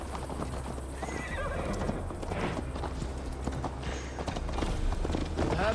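Horse hooves clip-clopping at a steady ride in the video game Assassin's Creed Valhalla, with a horse neighing and whinnying, fairly close under a soft ambient bed.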